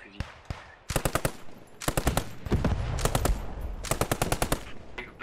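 Rapid machine gun bursts mixed with rifle shots crackle in a video game battle, loud and close, coming in several rhythmic volleys with brief pauses between them, with some talk underneath.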